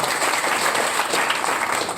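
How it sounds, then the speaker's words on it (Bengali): A seated audience applauds for a teacher at a World Cancer Day event held by a foundation, many hands clapping in an even, continuous wash that holds at a moderate level throughout. "আমরা স্যারের জন্য একটা হাততালি দিতে পারি"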